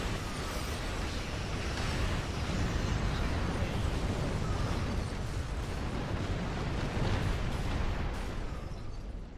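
Withering Barrage weapon fire from a Damocles heavy frigate in Star Trek Online, a dense, loud, continuous roar of rapid blasts and explosions rumbling without pause for several seconds.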